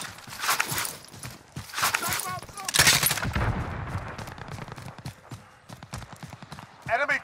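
Enemy gunfire in the video game Call of Duty: Modern Warfare, with bursts of rapid shots and scattered single cracks mixed with footsteps and clatter. Voices call out over the shooting.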